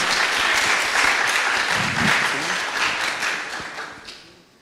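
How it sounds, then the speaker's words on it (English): Audience applause at a hackathon's final presentations, a dense wash of clapping that holds steady for several seconds and then fades away, with some voices mixed in. "Clap your hands."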